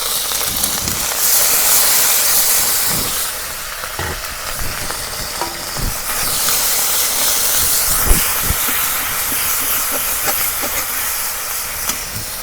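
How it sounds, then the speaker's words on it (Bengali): Garlic, green chili and onion pastes sizzle loudly in hot oil in a pan while cooking fish, a dense steady hiss with occasional utensil clicks and stirring scrapes, close and continuous throughout. "এখন তেল গরম হয়েছে, দিয়ে দিব রসুন বাটা, কাঁচামরিচ বাটা, পেঁয়াজ বাটা"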